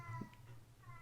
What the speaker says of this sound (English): we have a cat in the background here.